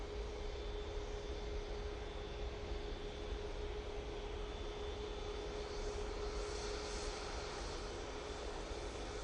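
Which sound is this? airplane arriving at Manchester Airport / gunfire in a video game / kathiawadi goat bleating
airplane arriving at Manchester Airport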